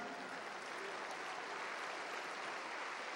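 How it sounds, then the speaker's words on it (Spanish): A church congregation applauds during a worship service, a continuous, even wash of many hands clapping, faint and distant throughout. "Dale un aplauso al Señor, amén."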